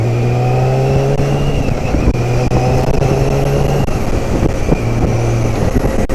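A motorcycle engine held at steady revs during clutchless upshifts, a loud continuous drone with stepped tonal hum, close and alone without speech.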